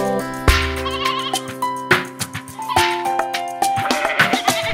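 Cartoon sheep bleat repeatedly in a playful rhythm over a bright, tuneful children's nursery song, each bleat loud and upfront.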